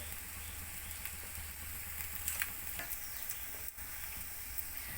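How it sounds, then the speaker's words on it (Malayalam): An egg fries in a pan, a soft, steady sizzle and crackle of hot oil close by, with a few faint clinks and pops and no talking. "ഏകദേശം നമ്മുടെ മുട്ട വെന്തിട്ടുണ്ടെന്ന് അതൊന്ന് തിരിച്ചിടാൻ സമയമായിട്ടുണ്ട്"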